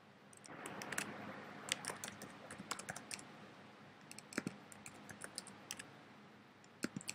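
Quiet keystrokes on a computer keyboard as a username is entered at a login screen, irregular clusters of soft clicks over a faint background hiss.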